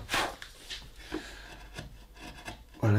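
A carving knife shaves into wood while chip carving a rosette, giving soft scraping rasps and short dry cuts in an irregular rhythm, close and fairly quiet, with no speech over them.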